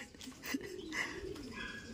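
Soft cooing of a pigeon or dove repeats a few times at low volume, close by, with no other sounds competing.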